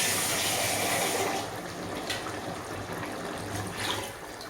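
Water pours steadily into a thick cooking mixture in a home kitchen, producing a continuous close splashing hiss that eases slightly partway through.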